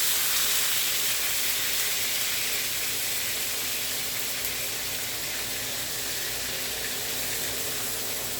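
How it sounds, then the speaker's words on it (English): Meat dropped into hot oil in a pot sizzles loudly and steadily, a dense crackling hiss that holds at full strength the whole time with no voices over it. "I have some oil in the pot here. I'm going to go in with my meat."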